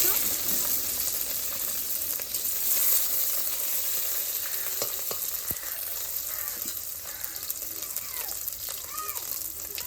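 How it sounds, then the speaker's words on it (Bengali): Chopped onion hitting hot oil with whole cumin seeds gives a steady, close, crackling sizzle that runs throughout, with faint voices in the background. "এখানে দিয়ে দিচ্ছি পেঁয়াজ কুচিটা, দেখতেই পাচ্ছ।"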